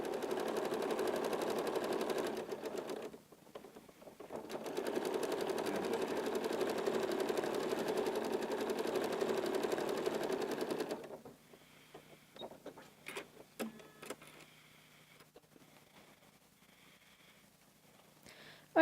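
A sewing machine stitches a fabric placemat in a long steady hum with a brief pause partway through, then stops. Soft handling clicks and rustles follow.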